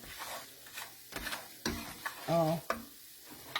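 Flour bubbling and frying in bacon grease in a hot skillet for Southern tomato gravy, a soft sizzle with scraping stirs and clattering utensil taps, close and fairly quiet, no talking.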